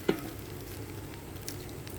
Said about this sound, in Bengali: চালগুলো সরাসরি মাংসের সাথে ভেজে রান্না করে ফেলবো